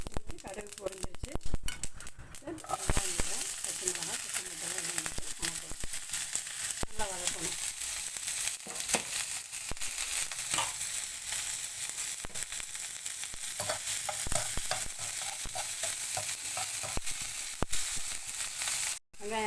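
Oil sizzles steadily in a kadai as cumin, onion and green chillies fry for kuzhi paniyaram, with metal ladle scrapes and clinks against the pan throughout.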